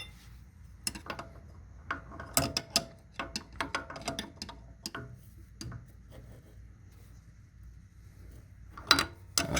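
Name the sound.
spanner wrench turning suspension locking ring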